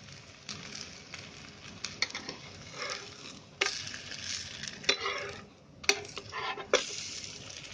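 Gul poli, a jaggery-filled flatbread, roasts in a little oil on a hot pan, giving a soft sizzle broken by irregular scraping and turning clatters at moderate, close range.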